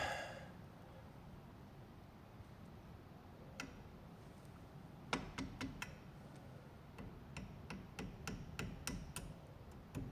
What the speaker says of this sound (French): Hop, le petit coup de marteau qui va bien.